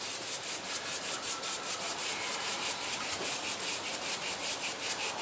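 Brush scrubs paint onto a canvas in quick crisscross strokes for a small painting, a steady rhythmic swish repeating several times per second, close and fairly soft with no talk.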